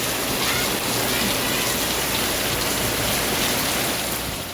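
Steady broadband rush of heavy rainwater flowing through a clogged drain and spilling onto a verandah, with drips from a thatch roof, close and continuous without pause.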